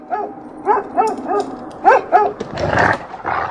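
A pack of feral city dogs barking, with a run of loud, close yelping barks and rougher growling barks overlapping in quick, uneven bursts.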